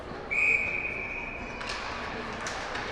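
A referee's whistle gives one loud, shrill blast of just over a second at an Atom B youth ice hockey game between Ile-Perrot Islanders and Kahnawake, then fades into arena ambience.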